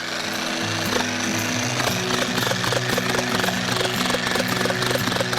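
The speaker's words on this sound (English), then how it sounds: "That's the VEVOR demolition hammer, 1500 watt right there." A VEVOR 1500 watt demolition hammer pounds a grounding rod post into ground near a tree root, a loud, close, rapid hammering that runs continuously in even bursts with no talk.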